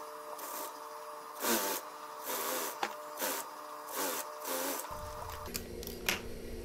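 A sewing machine stitches along the sleeve end of a koko shirt in short repeated bursts of whirring and needle clatter, with a steady low mechanical hum underneath and no voices.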